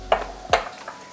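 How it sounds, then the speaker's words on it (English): Ginger and garlic are crushed for a vegetable pulao, giving three clinking, knocking strikes spaced about a third of a second apart, the last one softer, close by and with no talking. "here I'll just crush ginger and garlic."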